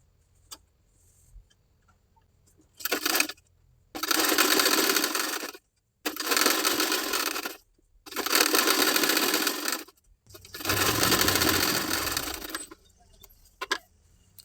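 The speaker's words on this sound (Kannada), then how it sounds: "ಈಗ ಇದನ್ನು ಫೋಲ್ಡ್ ಮಾಡಿ ಕೆಳಗಿನ ಸೈಡು ಸ್ಟಿಚ್ ಮಾಡ್ಕೊಳ್ಳೋಣ." A sewing machine stitches a blouse lining to the main fabric, running close and loud in four steady bursts of a few seconds each, separated by short pauses and faint handling clicks.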